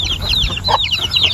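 A flock of chickens on a farm in the afternoon, including small chicks peeping, giving repeated high chirps with a louder cluck in the middle. The chirping is close and continuous over a low background rumble.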